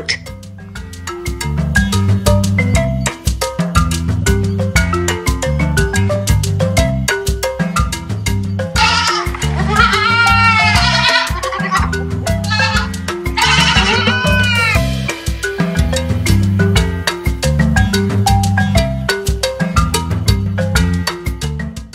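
Wavering goat bleats ring out over a loud, steady rhythmic musical beat, with a couple of longer bleating bursts in the middle.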